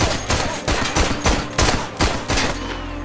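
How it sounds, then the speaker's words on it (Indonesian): Rapid burst of loud gunfire, about seven evenly spaced shots fired in quick succession, close and punchy. "untuk pertama kalinya tembakan Luke meleset saat hendak membunuh anak kecil"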